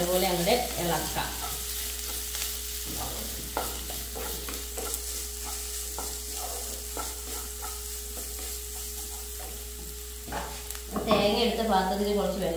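A spoon repeatedly scrapes and stirs coconut spice paste for a banana-flower thoran as it fries in a pan, giving rhythmic scraping strokes over a steady sizzle, with a voice briefly heard at the start and end.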